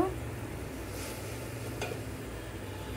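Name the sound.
spices and garlic paste frying and being stirred in a pan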